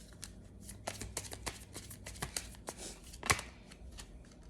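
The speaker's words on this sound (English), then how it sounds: "I'll shuffle again because I don't want to take them." A deck of tarot cards being shuffled up close, with a quick run of papery riffles and taps and one louder snap near the end.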